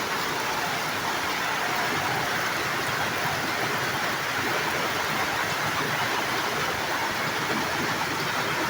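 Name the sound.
heavy rain from a typhoon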